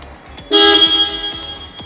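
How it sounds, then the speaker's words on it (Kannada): Car horn of a Maruti Suzuki Fronx Delta+ sounding once in a loud, steady blast of about one and a half seconds, close by, following a quiet moment. "ಸೊ ಈ ಕಾರಲ್ಲಿ ಹಾರ್ನ್ ಹೆಂಗಿದೆ ಕೇಳಿಸ್ಕೊಳ್ಳಿ ನೀವೇ."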